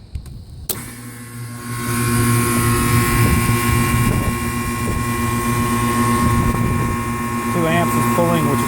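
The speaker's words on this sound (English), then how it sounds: "Let's see if it's running. Guys, you can see the condenser fan motor." The condenser fan motor of a wall-mount heat pump package unit starts up and runs with a loud, steady whirring drone and a constant mechanical hum.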